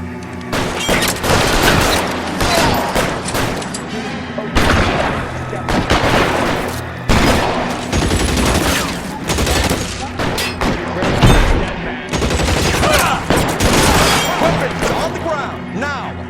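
Sustained video-game gunfire from a shootout in L.A. Noire, a dense crackle of rapid shots and booms that continues almost without pause, with shouted voices mixed into the fight.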